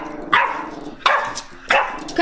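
A dog barks indoors in three or four sharp, loud bursts spaced about a second apart, with other dogs present in the home and no other sounds between the barks.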